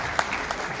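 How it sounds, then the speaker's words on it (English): Audience applause following a data storytelling presentation at a conference, a brief burst of many hands clapping with a couple of sharper claps standing out. "Dana, Jason, everyone, a big round of applause."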